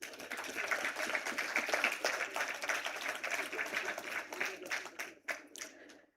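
Conference audience at an awards event applauding, a steady wash of many hands clapping that fades into a few scattered claps at the end.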